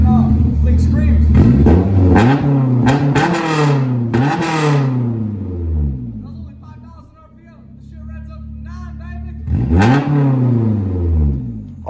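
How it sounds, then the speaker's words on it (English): A Honda S2000's loud aftermarket exhaust revs repeatedly, rising and falling sharply, then settles to idle before one more roaring rev. "I got some NVIDIA exhaust on the S2000. Check it out. Thing screams."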